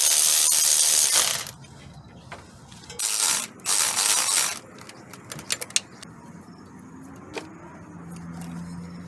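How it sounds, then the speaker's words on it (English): A ratchet loosens a 14mm nut on the idler tensioner of a Mitsubishi Endeavor engine: loud whirring bursts at first, then short bursts of rapid ratchet clicking and scattered metallic taps, close up. "14mm nut here for the idle tensioner here, and another one here beneath the adjuster"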